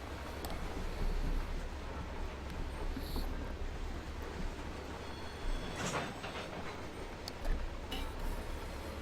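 An eastbound freight train in the Run8 train simulator rumbles steadily in the distance, a low continuous roll with faint clicks and a few metallic squeals rising above it.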